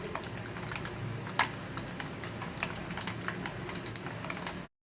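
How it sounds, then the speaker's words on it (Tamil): Mustard and fenugreek seeds splutter in hot oil for a mango pickle tempering, making rapid irregular crackles and pops that run steadily and then stop abruptly. "கடுகும் வெந்தயமும் நல்லா பொரிஞ்சு வருது"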